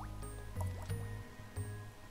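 Blood-splatter squish effect from the Flockers lemming-style mobile game, a few short wet squelches and drips with gurgling liquid over a quiet game music bed.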